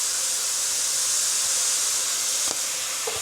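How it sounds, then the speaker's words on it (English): Soy sauce and fish sauce hit a very hot pan of cabbage over a high flame, giving a loud, steady sizzling hiss that fills the whole clip, with a brief louder crackle near the end. "with the flame still on high, I'm gonna add a bit of soy sauce, a bit of fish sauce,"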